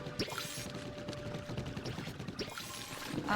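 Watering crops in the farming game Palia gives a steady poured-water splash with light dripping, running continuously at moderate level with no one talking.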